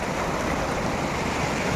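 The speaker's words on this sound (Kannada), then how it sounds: "ಅಲೆಗಳ ಅರೆಗಳ ಶಬ್ದ" Steady rush of sea waves, a broad constant wash of surf at moderate level with no talking.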